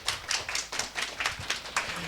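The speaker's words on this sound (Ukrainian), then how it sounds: "Відтак готуйтеся аплодувати" A lecture audience claps in a scattered, moderate round of applause, with individual claps audible at close range and no voices.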